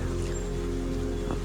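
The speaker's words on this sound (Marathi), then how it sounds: "आणि इथं पडते पाऊस." Rain falls steadily in a forest, making a dense, even patter with a low rumble beneath it, close and continuous for the whole short stretch.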